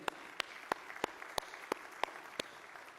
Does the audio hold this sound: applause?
yes